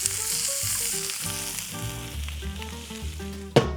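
Meat sizzles in a pot while kharcho soup is cooked, a constant close frying hiss joined by tonal background sounds, ending in a sharp clatter.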